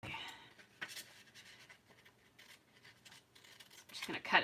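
Scissors cutting paper for a journaling card, a few close, crisp snips and rustles spread across the moment, with a voice speaking quietly over the cutting.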